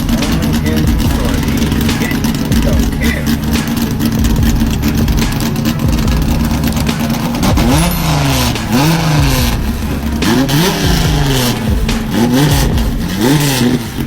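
A car jolts along a badly broken, bumpy road, its engine droning steadily while the body thumps and rattles over the bumps, loud and close, with no voices.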